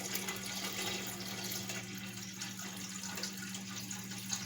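Two gallons of water pour steadily into a container of about two quarts of dandelion flowers to steep for wine, a continuous close splashing and hissing with no talk.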